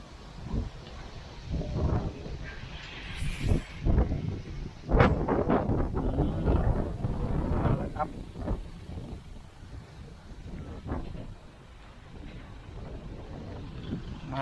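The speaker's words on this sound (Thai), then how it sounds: "พายุเริ่มมาแล้ว ลมแรงแล้วครับ" Strong wind gusts before a storm roar and buffet the microphone in a steady, rumbling rush that swells and eases without stopping.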